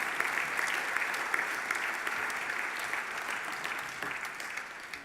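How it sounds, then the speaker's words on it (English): A dinner audience applauds steadily for a speaker at an evening awards program, a dense, even wash of clapping that holds loud from start to finish with no talk over it. "Matt also deserves another great round of applause."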